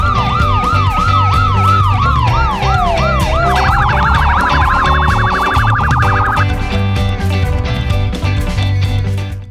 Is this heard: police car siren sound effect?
yes